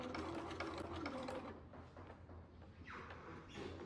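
A home sewing machine runs a steady mechanical whir, back-stitching fabric for a sou'wester sun hat, close and continuous with a brief slowdown midway before picking up again.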